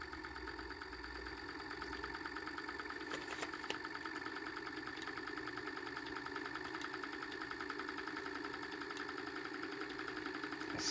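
A massive 3D printed pulse motor hums and whirs steadily as it slowly spins up to speed, with a constant mechanical drone and faint regular ticking.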